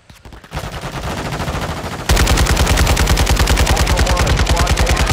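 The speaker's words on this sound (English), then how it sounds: "You are taking effective fire." Rapid automatic gunfire in a military video game: a short quieter burst builds, then a louder, sustained stream of evenly spaced machine-gun shots fills the rest, dense and close.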